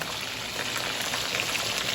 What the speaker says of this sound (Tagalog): Nagpiprito ng talong.